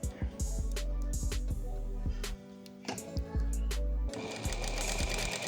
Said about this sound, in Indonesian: Kita coba buat menjahit bahan ya